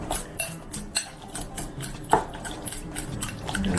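Utensil stirring salsa in a bowl for a guacamole dip, giving a run of light scraping and clinking strokes with a few sharper knocks, close and fairly quiet with no talk.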